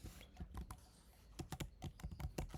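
Someone types on a computer keyboard, close and quiet, with irregular bursts of light key clicks separated by short pauses.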